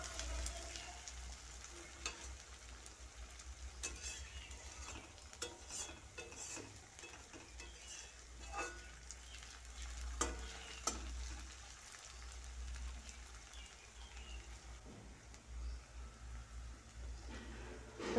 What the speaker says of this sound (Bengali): তো পেঁয়াজগুলো মোটামুটি আমার ভাজা হয়ে গেছে, এর থেকে বেশি ভাজবো না।